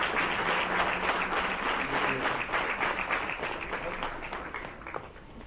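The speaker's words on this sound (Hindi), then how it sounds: "हमने तालियों से आपका स्वागत और अभिनंदन किया" An auditorium audience at a RAS training program in Jaipur claps in welcome for Chief Minister Gehlot, dense continuous applause that gradually thins toward the end.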